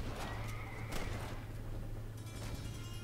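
A horse whinnies loudly in Red Dead Redemption over a constant low hum, with hoof clatter and game effects around it, fading near the end.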